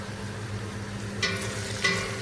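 Onions fry in a pan with a steady, close sizzle, and two brief stirring scrapes break through the hiss.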